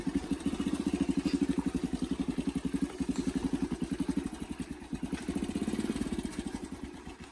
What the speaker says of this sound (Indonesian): sambil naik motor